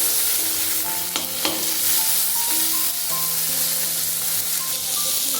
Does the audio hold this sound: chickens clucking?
no